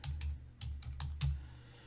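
Quick bursts of typing on a computer keyboard, close and quiet, several clustered keystrokes in an uneven rhythm with short pauses, no talk.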